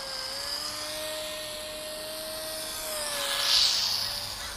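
A WLToys F949 RC plane buzzes close by, its small electric motor droning with a steady high whine that rises and swells as it passes near, alone without talk.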